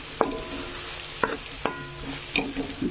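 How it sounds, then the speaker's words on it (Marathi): Onion, garlic, coriander and cumin sizzle in hot oil for a tempering, with a constant frying crackle and several sharp spoon scrapes against the pan as it is stirred, close and without talk. "छानपैकी असं फोडणी करून घ्यायची"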